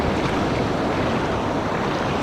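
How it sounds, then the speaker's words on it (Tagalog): Strong ocean waves at sea while out on a fishing trip by boat, a dense continuous wash of surf and wind noise buffeting the microphone, loud and close with no talking. "Sakto to, palakas na yung alon."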